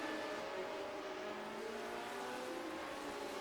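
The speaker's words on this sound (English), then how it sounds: "Listening on board, he's on the revs, he's on the pedal." Race car engine in a retro series race at Barber Motorsports Park, a sustained high-revving drone heard on board under full throttle, steady and fairly faint with a slight shift in pitch.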